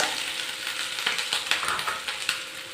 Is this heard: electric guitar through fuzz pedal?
no